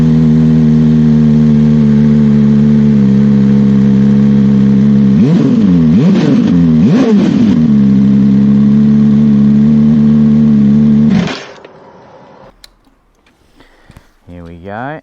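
Aprilia Tuono V4 Factory motorcycle fitted with an SC Project exhaust, idling loudly up close, then blipped through three sharp revs in quick succession before settling back to idle and cutting off.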